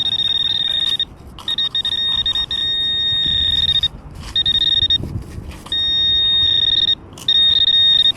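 A DeepTech Onyx metal detector on a foreshore hunt sounds repeated high electronic tones over an iron target, in on-off bursts of a second or so above steady low background rumble.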